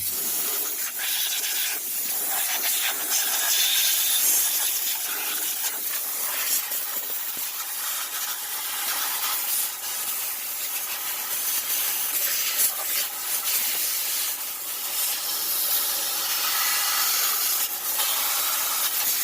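Compressed air blasts dust out of a CVT clutch housing during maintenance, a loud, continuous close-up hiss and rush of air with shifting intensity and occasional rattling, and no talk.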